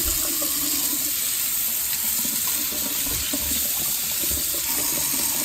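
Tap water runs steadily into a household sink as a potato-starch packing peanut is washed, a constant close hiss and splash with no voices.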